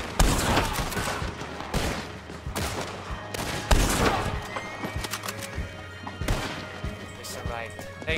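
Gatling gun fire amid a chaotic Red Dead Online gunfight, rapid bursts mixed with other gunshots, horse whinnies and hoofbeats, loud and dense throughout with players talking over it.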